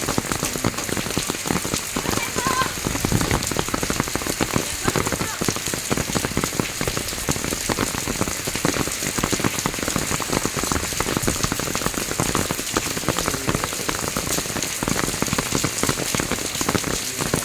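Steady heavy rain pours down on a worksite where a bricklaying and plastering crew had been working, a dense continuous patter drumming on surfaces throughout with no pause.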